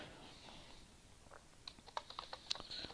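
Keyboard keys clacking in a quick, irregular burst of sharp clicks that builds toward the end, close and fairly quiet, with no talking.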